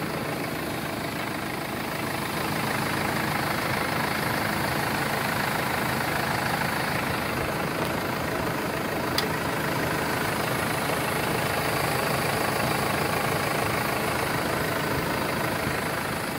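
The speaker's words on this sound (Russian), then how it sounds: "Двигатель работает ровно." A 2016 Mercedes-Benz Sprinter 316 van with a 163 hp engine idles steadily, a constant, even diesel-like hum and rumble with no revving, holding the same level throughout.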